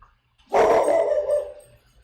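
A dog in a home kitchen gives one loud, close bark that trails off into a short whine, with near silence on either side.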